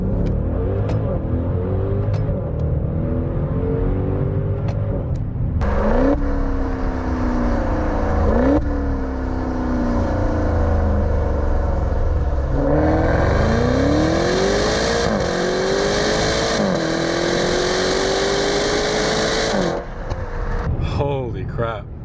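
A 2019 Maserati Levante GTS engine revs loudly and repeatedly, its exhaust note climbing and dropping in rising sweeps as the SUV accelerates hard up close and shifts through gears.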